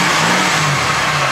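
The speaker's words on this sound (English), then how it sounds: "let's go ahead and just give it a couple of revs real quick" A car engine swapped to a 3500 LX9 V6 is revved in a quick blip, a loud, close mid-pitched roar that rises and settles back, with no talking over it.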